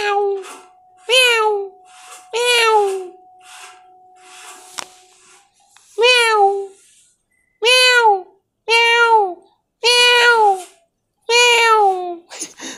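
A cat meows repeatedly, about eight clear, drawn-out cries spaced by short pauses, close and loud, with no talking over them.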